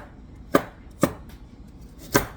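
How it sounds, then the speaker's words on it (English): A knife chops carrots for shepherd's pie, three sharp, close cuts on a board with irregular gaps between them and no voices. "Now they want you to chop these carrots up. So chop we are."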